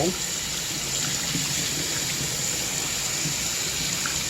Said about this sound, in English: I'm going to start by rinsing my green onions and my one little tomato